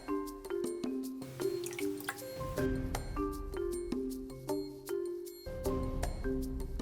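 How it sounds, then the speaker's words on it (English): Displaced water drips and trickles over into a larger bowl after a toy boat is placed in, with light splashes and clinking tones repeating over a few seconds. "the displaced water will fall into the larger bowl"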